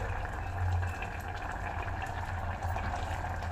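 Broken wheat vegetable biriyani boiling in a steel pot, a steady low bubbling simmer that continues evenly throughout with no talking.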